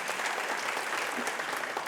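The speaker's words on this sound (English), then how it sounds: "Let's give her a big round of applause." Applause at a school district awards event, a crowd clapping steadily and densely for the whole moment, moderately loud with no voices over it.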